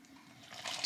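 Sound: milk replacer poured through funnel into bottle

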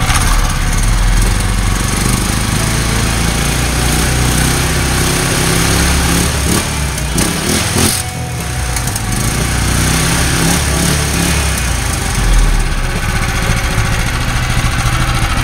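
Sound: Predator 212 engine running at high RPM without governor

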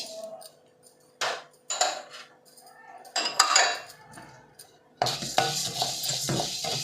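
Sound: roasting urad dal in a pan while stirring

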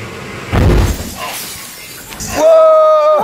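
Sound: explosion of an object with gas bottles attached

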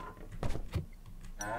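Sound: cow mooing in video game Suicide Guy

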